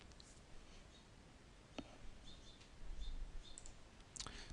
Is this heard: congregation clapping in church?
no